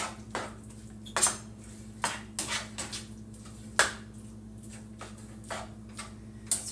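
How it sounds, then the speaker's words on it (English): Stuffed bell pepper filling with Worcestershire sauce being mixed in a bowl, heard as sparse, irregular clicks and taps of a utensil against the dish over a quiet low hum, close up and without speech. "Just gonna kind of mix that all together here."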